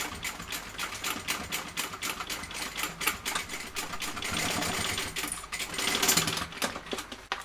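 A sewing machine runs steadily along a bag seam on a Tiny Cata bag, its close, rapid needle chatter continuous with slight changes in speed.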